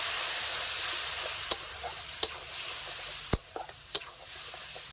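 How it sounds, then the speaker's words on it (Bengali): Spice paste of cumin powder, black pepper and salt sizzles softly in a pan as it is sautéed with a little water, a steady close hiss broken by a few sharp knocks of a spoon stirring against the pan. "একটু জল দিয়ে মশলাটাকে আমি ভালো করে কষিয়ে নেব"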